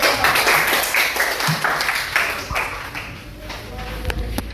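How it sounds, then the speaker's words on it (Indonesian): Students in a classroom clap for a group after its presentation, a loose, uneven patter of hands that thins out toward the end, with a few sharp taps and some voices underneath. "Kasih tepuk tangan dulu."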